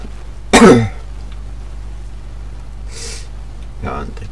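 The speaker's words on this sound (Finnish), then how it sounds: "Siitä kun yskin koko aika" A person coughs and clears their throat: one sharp, loud rasping burst, then a breathy sniff a few seconds later and a shorter throaty noise near the end, with quiet room hum between.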